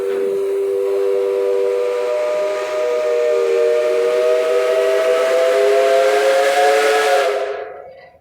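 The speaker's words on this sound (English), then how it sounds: "The whistle just went off over there from that Pabst engine" A loud, sustained whistle from a Pabst steam engine blows for several seconds with a breathy hiss, then cuts off abruptly, at a steam show in Rollag, Minnesota.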